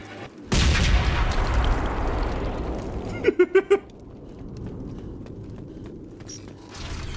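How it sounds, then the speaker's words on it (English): A sudden loud explosion in the video game Mass Effect Legendary Edition bursts in and rumbles away. A quick run of sharp bangs follows, then lower background game noise with occasional clicks. "I want to make sure the explosion works."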